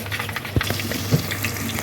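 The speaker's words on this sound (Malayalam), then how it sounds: "എണ്ണ ചൂടായപ്പോൾ കടുകിട്ട്, കടുക് പൊട്ടിക്കഴിയുമ്പോൾ" Mustard seeds crackle in hot oil in a pan while pickle is being cooked, giving a close, steady sizzle with a couple of sharper pops standing out.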